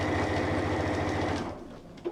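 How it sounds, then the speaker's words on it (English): A sewing machine back stitches along a cushion seam with a steady, close mechanical whir and rapid needle chatter, then stops abruptly as a small click follows. "I'm going to back stitch, and then I'm going to finish off my seam"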